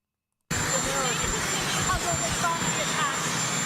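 A helicopter runs steadily and loudly throughout, a continuous rotor and engine roar during a recorded press question, with faint voices blending into the noise.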